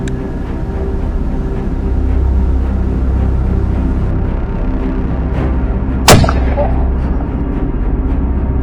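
A single loud, sharp gunshot cracks out close by during a spring black bear hunt, cutting through a steady engine-like rumble in the background.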